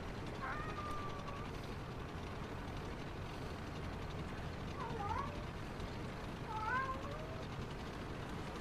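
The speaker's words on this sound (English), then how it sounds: "Cat, get lost." A cat meows a few times, short rising and falling cries at moderate distance, over a steady engine and game rumble.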